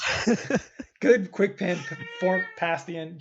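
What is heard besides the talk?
cat meowing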